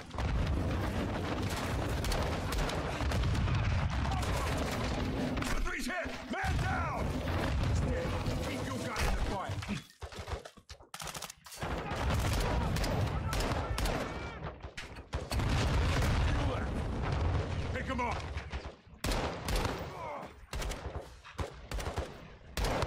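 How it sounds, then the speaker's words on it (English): Grenade explosions and heavy gunfire from Call of Duty Modern Warfare 2 fill a chaotic battle, with dense bursts of shots and booming blasts broken by a few short lulls, and some voices shouting over the fighting. "They're launching grenades!"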